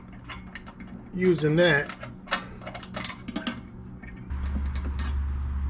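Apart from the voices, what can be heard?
magnetic screwdriver starting screws on a kit build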